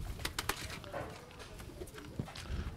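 Purebred Mardin pigeons in blue, red and smoky colours coo softly inside a cramped coop, low throaty calls overlapping with a few sharper wing and shuffling sounds nearby.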